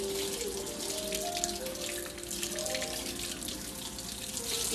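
Tomatillos rinsed under a running kitchen tap, a steady close hiss of flowing water splashing over the fruit into a sink, continuous and unbroken with no voices.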